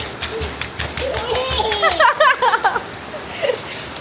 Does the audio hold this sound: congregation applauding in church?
no